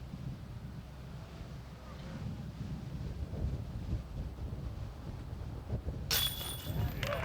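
Steady wind buffets the microphone on an outdoor disc golf course during a tournament round, a continuous low rumble throughout with a burst of hiss near the end.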